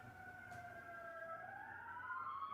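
A faint emergency vehicle siren wails outside in a slow rising and falling tone, distant and alone over low background hum.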